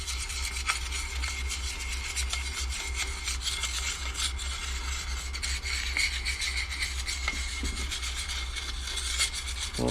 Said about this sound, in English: That's why I'm scratching this up real good.